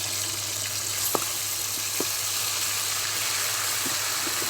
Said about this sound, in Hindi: तो माशाल्लाह जी अदरक लहसुन के पेस्ट को हमने अच्छी तरह से भून लिया है